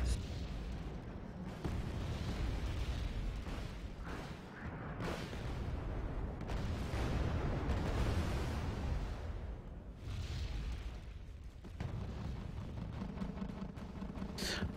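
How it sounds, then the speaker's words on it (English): A tank and an M60 trade fire in the video game Wargame Red Dragon, heavy booms and rumbling blasts rolling over a dense battle din, fairly faint and without talk. "This tank here is still fighting against that M60. So they are exchanging fire."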